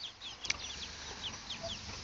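Four white Silkie hens and three crossbred chickens clucking nearby, with soft scattered clucks and high chirps repeating over a low background murmur, no talk.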